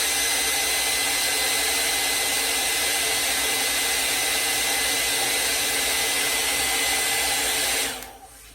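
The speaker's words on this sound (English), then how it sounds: "you always want to have your blow dryer ready." A blow dryer runs during a gray fiberglass tub repair, giving a loud, steady, close-up whooshing whir that holds constant for several seconds and then cuts off abruptly near the end.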